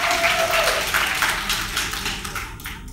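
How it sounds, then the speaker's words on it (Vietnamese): A crowd claps steadily in a dense, continuous burst of applause that fills the room, fading slightly toward the end. "Các bạn có thể cho một tràng vỗ tay được không ạ?"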